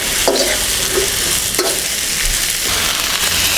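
Peppers fry hard in a chicken balti pan, restaurant style, giving a loud, dense, continuous sizzle close up, with a few sharp scraping stirs of the utensil against the metal.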